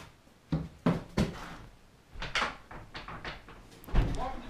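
A shed door rattles and bangs in a series of sharp, irregular knocks and thuds, several loud hits spread across the moment with quieter scraping between them, close by.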